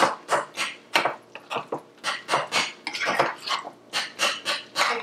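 A spoon stirring homemade salsa or guacamole in a bowl: repeated close scraping and clinking strokes in a quick, fairly regular rhythm, moderately quiet.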